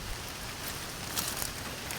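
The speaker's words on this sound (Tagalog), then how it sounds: "Sobrang ulan dito mga kailaw sa amin." Heavy rain falls under coconut palms in a flooded Philippine neighborhood, heard as a soft, steady hiss of moderate-to-faint loudness, with a few brief sharper patters and no talking.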